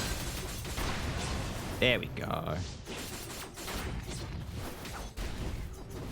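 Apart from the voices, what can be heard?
enemies exploding in video game Skul: The Hero Slayer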